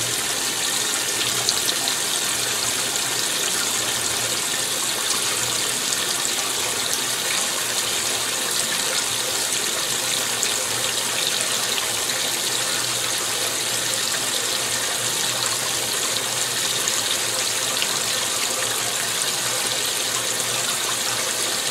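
Water rushes steadily into a GE Infusor GTWN5050M0WS high-efficiency washing machine during its rinse fill with fabric softener, a continuous even gushing hiss with no pauses and no voices.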